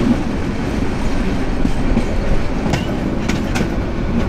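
A Meghna Express intercity train rolls past a station platform at Hasanpur in Bangladesh, a loud, steady rumble of wheels and carriages with rhythmic clacking and a few sharp metallic ticks near the end.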